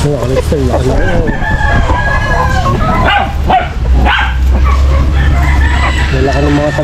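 Roosters crow loudly and repeatedly at close range, with hens clucking and a dog barking now and then, on a backyard farm where pigs are also kept.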